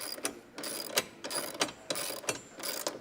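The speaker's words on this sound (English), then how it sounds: "We're going to torque these down to 17 foot-pounds on both the front and the rear." A torque wrench ratcheting nuts onto the roof rack mounts of a Jeep Gladiator JT, giving quick bursts of crisp metallic clicks in a steady back-and-forth rhythm, close up and alone.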